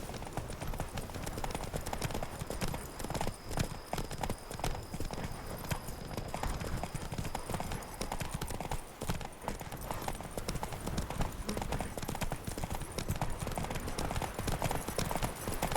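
Horse hooves clip-clop steadily at a walking pace in Witcher 3, a continuous rhythmic clatter over a dense game ambience.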